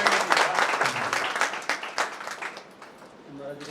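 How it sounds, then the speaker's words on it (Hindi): A crowd claps at the inauguration ceremony of a Jain charitable clinic's pathology collection centre, loud applause that tapers off, with a voice speaking through it. "मुझे राकेश जी के लिए सब जोरदार तालियां"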